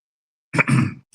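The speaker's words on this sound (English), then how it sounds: "just clear my throat for this one" A single short, throaty rasp of someone clearing their throat, close and fairly loud, followed by a brief tail.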